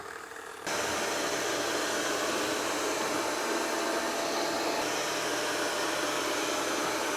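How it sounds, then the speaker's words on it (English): An ECOVACS DEEBOT X11 OmniCyclone robot vacuum switches to blast suction, kicking abruptly into a loud, steady, hair-dryer-like roar of rushing air that holds evenly up close, with no voices. "The X11 has what they call blast suction power, about 18 liters per second of suction."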